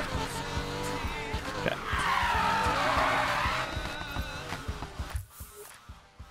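A car drifts through a corner in the racing game Need for Speed Payback, its engine roaring loud with a long tire squeal building and then fading. A voice says one brief word near the start.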